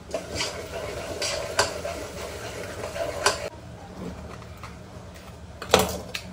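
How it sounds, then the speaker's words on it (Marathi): Coconut roasting in a pan, with a spatula scraping and clinking against the metal over a low continuous sizzle, a few sharper knocks standing out. "खोबरा भाजत ठेवतोय."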